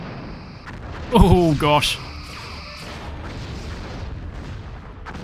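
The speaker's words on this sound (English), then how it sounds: "Simulated enemy ship has been destroyed." An enemy starship is destroyed by weapons fire in a Star Trek space combat game, a short burst of booming, crashing explosion with warbling electronic effects, under a brief spoken exclamation, then a low steady hum.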